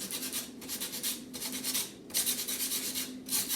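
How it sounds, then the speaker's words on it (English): Sandpaper rubbing over drilled holes in a wooden Christmas sign, in quick back-and-forth strokes that come in bursts with short pauses, close and fairly quiet. "then I can use my sandpaper and just rough up each of these holes to get rid of all those little extra pieces."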